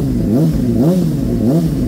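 Honda CBR600RR motorcycle engine revving, a loud, close rumble whose pitch rises and falls in repeated quick blips over a steady idle.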